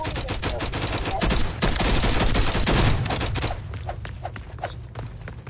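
Video game gunfire in a Flag Wars match: dense rapid-fire bursts, loud and close, give way to sparser, spaced single shots with faint mechanical clicks.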